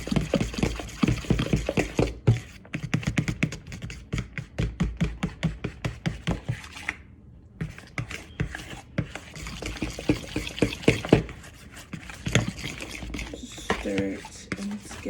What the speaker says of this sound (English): Stir it, and it's getting like thicker eventually